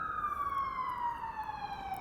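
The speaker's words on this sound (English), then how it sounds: "I'm gonna let the sirens pass." Emergency vehicle sirens wail steadily in the middle distance, a continuous falling tone that slowly drifts as the vehicles pass, with faint road noise underneath and no talking.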